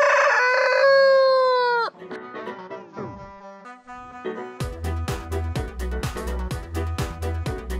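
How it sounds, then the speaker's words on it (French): A rooster crows loudly and close at a farm, followed by chickens clucking in a quick, irregular run of sharp calls. "Elles sont là, les poulettes."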